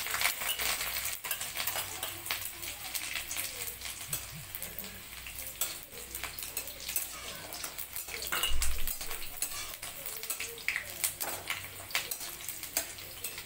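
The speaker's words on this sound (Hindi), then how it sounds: "गरम हो चुका है और ये लहसुन और मिर्च मैं पहले डालूंगी इस पे।" Garlic and chili frying in hot oil in a pan, a steady close sizzle with occasional clinks and scraping of a utensil stirring, continuing throughout with no speech.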